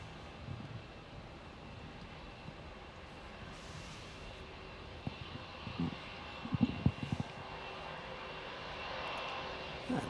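A Fiji Airways heavy jet departing Melbourne Airport, a distant steady engine roar and wind rumble, faint and continuous, with a few brief knocks nearby.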